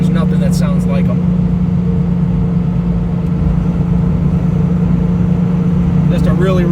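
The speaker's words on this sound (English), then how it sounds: "when you put Flowmasters on these cars, there's nothing that sounds like them" A 1989 Ford Mustang Saleen coupe with a 5.0 V8 and Flowmaster mufflers drones with a loud, steady, deep exhaust rumble, held close throughout, with brief voices faintly over it.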